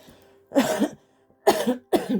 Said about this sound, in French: Excusez-moi si je tousse encore